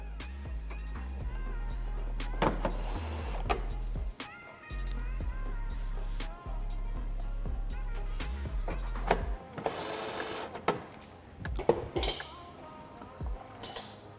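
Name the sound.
screwdriver tightening screws on C8 Corvette splitter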